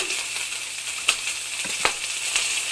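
Bacon frying as a sound pack app effect: a steady hiss of sizzling fat with occasional sharper pops and crackles throughout.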